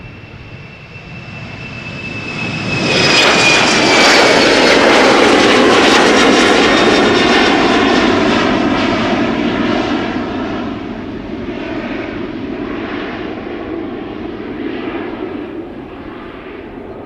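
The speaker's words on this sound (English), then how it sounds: "in the background the Dreamliner to San Francisco" A KLM Boeing 787 Dreamliner departing Amsterdam Schiphol for San Francisco, loud jet engine roar rising sharply with a whining tone, peaking and holding, then slowly fading into a distant rumble with no talking.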